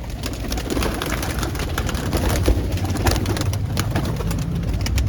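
A flock of pigeons, mostly females with a few males, coos steadily and close by in a loft, with soft rustling and a constant low background rumble.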